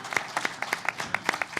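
Audience at a lecture series event giving a round of applause, individual claps distinct and rhythmic from a modest crowd, moderately close and steady throughout.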